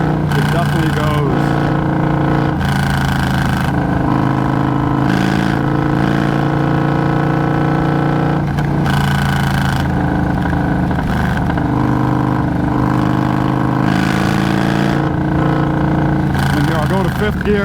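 Motorcycle engine pulling in fifth gear at around 2,800 RPM, a loud, steady droning rumble heard up close from the rider's position, with someone talking over it throughout.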